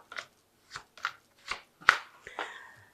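An oracle deck handled for a tarot reading, with a series of short crisp card snaps and shuffles spaced about half a second apart, close and fairly quiet with no talking.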